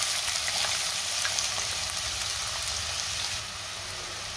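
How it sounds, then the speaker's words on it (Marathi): Onion hits hot oil in a kadhai, producing a loud, continuous crackling sizzle nearby that eases slightly toward the end, with nobody speaking. "तेल गरम झालंय, त्यामध्ये मी कांदा घालते।"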